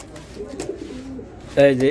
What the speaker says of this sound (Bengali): এই যে কবুতর আমি দেখাই দিছি